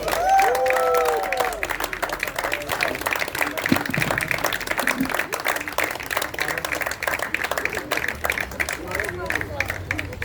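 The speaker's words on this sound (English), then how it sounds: "can we have the biggest round of applause for this entire team?" Audience applause at a mental health walkathon event, a sustained patter of clapping from a crowd with some voices and scattered sounds mixed in.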